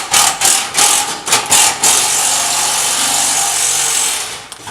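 A power tool cuts through a section of car exhaust pipe on a MKIV Jetta, starting with several loud pulsing bursts and then settling into a steady, harsh, close grinding whine that fades slightly at the end.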